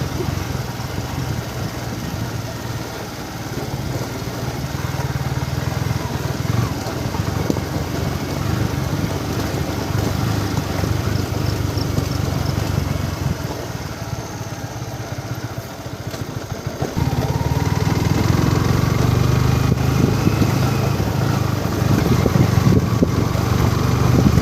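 A motorcycle engine runs steadily and loudly the whole time on the trail toward Panchpokhari from Chhimti, its note rising slightly toward the end, with faint voices in the background.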